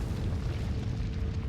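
A deep rumbling boom rolls through a crumbling castle in the video game ICO, a dense low roar that holds steady and loud for its whole short length.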